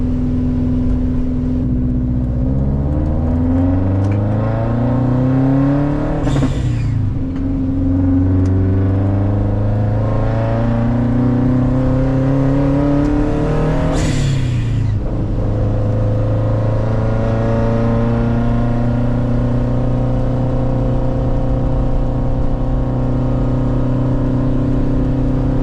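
A 2013 Subaru WRX engine revs loudly from inside the car while driving, climbing in pitch through the gears with sharp breaks at each shift and a steady drone between them, and no talk.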